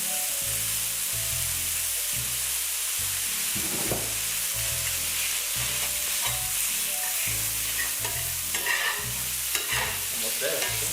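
Spaghetti noodles fry and get stirred in a hot pan for spaghetti tacos, a steady loud sizzle under repeated scraping strokes of a utensil, close up, with no talking.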